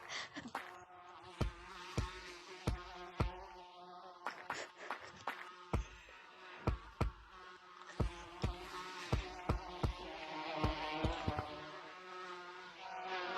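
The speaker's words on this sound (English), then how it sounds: "we're gonna be smacking this beehive" Bees buzz near a beehive that has just been smacked, faint buzzing with scattered short bursts and thumps from near and slightly farther away.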